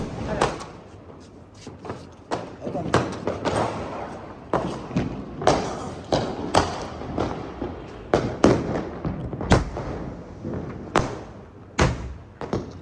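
Diwali firecrackers burst repeatedly around Hoshiarpur during the festival, a steady run of sharp, loud bangs and thuds at irregular intervals, some near and some farther off, with voices and crowd murmur in between.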